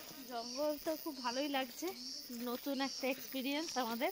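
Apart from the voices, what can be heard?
crickets chirping in a hill forest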